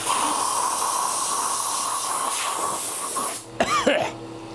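A quick burst of blown air clears wood debris out of a carved wooden goblet on the lathe, a close, breathy hiss lasting a few seconds, followed by a short coughing, rasping sound.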